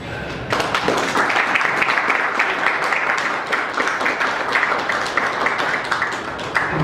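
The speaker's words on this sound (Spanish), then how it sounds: "Un fuerte aplauso," Audience applause for a percussion ensemble at a university symphony orchestra pre-concert talk, a steady, dense crowd clapping that starts after a brief quiet moment and keeps going at even loudness.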